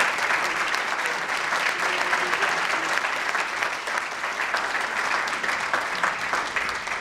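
Dense, sustained applause from an audience at an awards ceremony honoring a leadership team, loud and steady throughout with a faint voice underneath.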